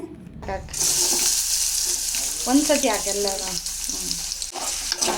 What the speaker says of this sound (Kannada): ಇನ್ನೊಂದು ಪಾತ್ರೆಯಲ್ಲಿ ಒಗ್ಗರಣೆ ಮಾಡ್ಕೊಳಕ್ಕೆ ಇಟ್ಕೊತಾ ಇದ್ದೀವಿ